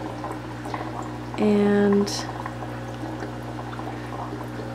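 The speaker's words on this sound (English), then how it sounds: "those are bubbling away" Air bubbles fizz steadily in small homemade hatcheries holding two-week-old Bristol fish fry, over a constant low pump hum. A voice speaks briefly while a louder tonal burst rises for a moment.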